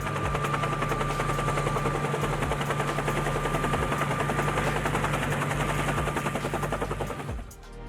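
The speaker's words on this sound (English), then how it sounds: "This helicopter has one key feature: its tail rotor is completely enclosed inside the fuselage." A loud, steady helicopter drone with rapid rotor chopping and a constant whine, from a helicopter with an enclosed tail rotor, continuous throughout before fading slightly at the end.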